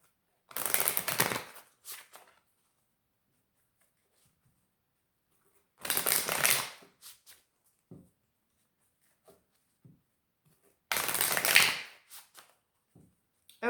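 Tarot cards being shuffled and pulled for a reading: three brisk, close-up riffling bursts, each about a second long, separated by long quiet gaps with small taps and rustles.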